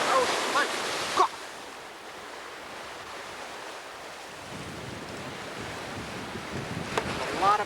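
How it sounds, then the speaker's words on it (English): Rough Atlantic Ocean surf washes and roars at St. Augustine Pier, a broad, steady hiss of waves mixed with gusty wind buffeting the microphone, with brief voices at the start and end. "Rough seas out here."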